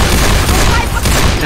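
Dense rapid gunfire and booming shots from Apex Legends firefights, loud and continuous, with players talking over the barrage.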